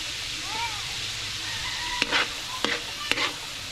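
Garlic and onion frying in a pan give a steady, moderate sizzle, broken by a few sharp clatters of stirring near the end.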